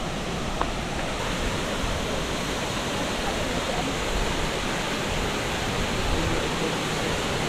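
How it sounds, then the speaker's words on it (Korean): A small waterfall near Dumaguete, Philippines, pours in a steady, dense rush of splashing water, loud and close, with no break for the whole stretch. "아, 여기 작은 폭포도 있네요."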